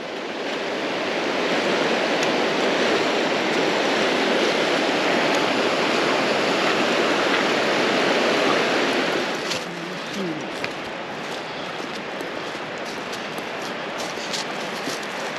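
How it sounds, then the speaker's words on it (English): Creek water rushes loudly and continuously over small gravel rocks nearby, a dense steady roar that drops away sharply partway through, leaving a quieter outdoor hush. "Water's really flowing."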